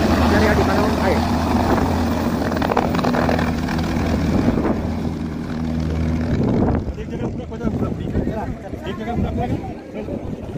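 A helicopter at the Kedarnath helipad gives a loud, close, throbbing rotor drone that holds steady, then cuts off partway through and leaves a rougher background hum.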